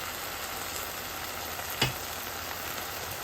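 Green chilies and tomato sautéing gently in a little oil, a steady soft sizzle throughout with one brief clatter midway, close and otherwise alone.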